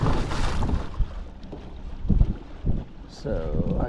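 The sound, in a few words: wind on a fishing boat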